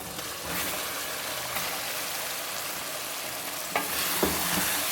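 Chicken pieces frying in a pan for a double-layer biryani, after tomatoes have softened; a steady broadband sizzle runs throughout, close up, with a few sharper clatters of stirring near the end and no talking.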